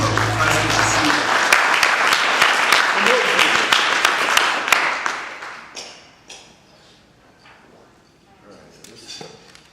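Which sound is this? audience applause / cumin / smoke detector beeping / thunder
audience applause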